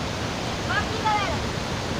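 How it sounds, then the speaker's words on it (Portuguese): A small, weak waterfall on a forest trail gives a steady broadband rush of falling water, fairly close and continuous for the whole stretch, with a couple of faint higher tones flickering briefly above it. "Uma cachoeira, só que essa fraquinha."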